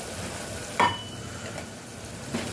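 Snail curry being stirred in a pressure cooker pot with chilli powder and oil, giving a brief scraping clink near the start, then soft stirring and a faint sizzle under steady kitchen background noise.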